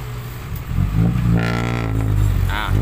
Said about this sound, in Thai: รถไถมาช่วยแล้วเอายังไงดี